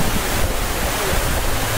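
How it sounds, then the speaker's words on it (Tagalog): Rushing water of the indoor waterfall in the Cloud Forest dome at Gardens by the Bay, a steady, loud broadband roar with no pause throughout. "It looks like a waterfall."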